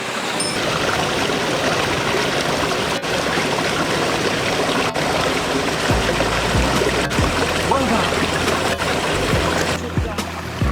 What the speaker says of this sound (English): you can see all the water whizzing down the plug hole